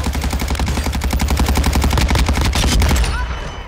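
Automatic gunfire in a first-person shooter video game, rapid evenly spaced loud bursts for about three seconds before cutting off.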